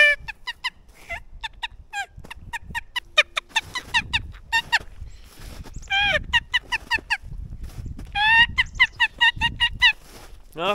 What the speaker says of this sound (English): No gobblers, just birds going.